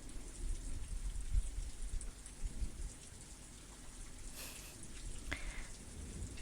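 Steady rain falls on a surface close by, a dense patter with low rumbling texture, a few sharper drips standing out midway.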